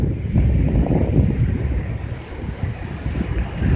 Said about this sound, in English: This is Woodbine Beach right now